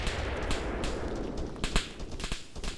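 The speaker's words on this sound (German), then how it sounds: "Aber ich sehe die Schüsse, wo sie hinfliegen." Gunfire rattles in ArmA 3, with sharp scattered shots and short bursts cracking at irregular intervals over a constant noisy background, some louder and closer than others.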